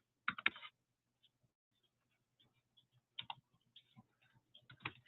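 Scattered keystrokes click on a computer keyboard, a few quick bursts separated by quiet pauses, close and fairly soft.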